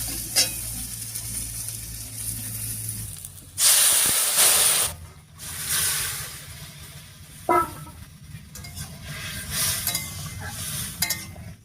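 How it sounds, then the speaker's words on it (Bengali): Fish broth hits a hot wok of fried tempering and onion, bursting into loud hissing steam bursts, then settling into a gentler sizzle with stirring scrapes and another sharp hiss, no talking. "এবারে নামিয়ে রাখা মাছের ঝোলটা দিয়ে দিচ্ছি।"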